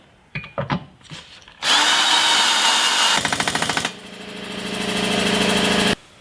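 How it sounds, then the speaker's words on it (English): A power drill whirs loudly in several close bursts, revving and stuttering as self-tapping screws bite into the metal frame of a Jeep Cherokee XJ while installing rock sliders, with clanking handling noises before it starts. "finish drilling the holes and installing self-tapping screws into the frame"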